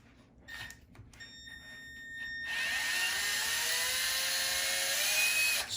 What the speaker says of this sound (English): Let's get the rest of these bolts out here